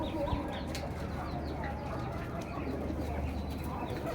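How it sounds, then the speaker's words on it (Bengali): Pigeons of various breeds and two pairs of doves in a cage, some nesting on eggs, coo and stir softly in a steady, dense bird murmur with a few wing flutters nearby. "এখানে বিভিন্ন জাতের কবুতর আছে অবশ্যই, আর এবং 2 জোড়া ঘুঘু আছে"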